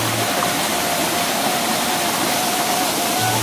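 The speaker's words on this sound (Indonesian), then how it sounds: "Di sini ada sungai air mengalir ya. Walaupun kecil tapi deras airnya sahabat dan jernih." A small, fast-flowing, clear river in a rural village, a loud steady rush of water with no breaks and no talking.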